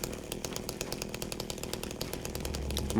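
A chainsaw in the Silent Hill 2 Remake video game runs steadily at idle, a continuous buzzing engine with rapid rhythmic pulses, moderately loud and alone.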